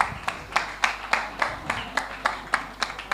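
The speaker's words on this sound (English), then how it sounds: "Thank you so much, Simon. A round of applause." Audience members at a women's fintech hackathon clap in a steady rhythm, individual claps landing distinctly and evenly spaced at moderate volume in a room.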